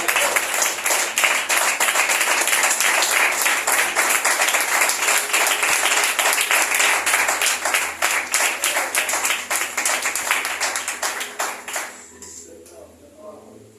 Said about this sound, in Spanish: Si usted lo cree así, hágale fuerte las palmas al Señor.